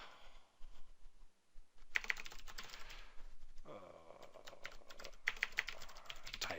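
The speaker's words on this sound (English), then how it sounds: "it took a whole lot longer to type than it should have" Bursts of quick, close keyboard clatter as code is typed into Visual Studio on a computer keyboard, with short pauses between runs of keystrokes and a quiet background.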